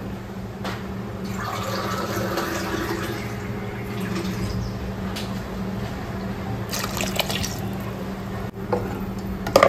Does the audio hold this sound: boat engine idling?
no